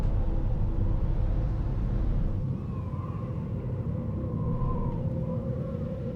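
A car engine drones steadily in DayZ on the Namalsk map at night, a continuous low rumble throughout that drops slightly in level partway through, with faint tonal whines riding above it.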